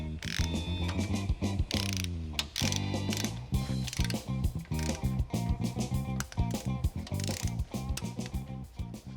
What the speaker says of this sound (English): Now we're torquing these bolts for the oil pan, working our way from the inside out.